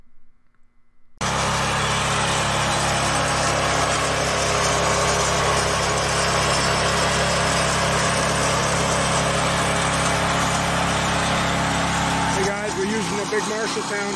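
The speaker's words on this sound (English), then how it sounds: "We're doing that 4-foot Marshalltown trowel." A 4-foot Marshalltown power trowel engine runs steadily on a concrete floor at a house and garage pour, a loud continuous drone with a constant hum that shifts slightly near the end.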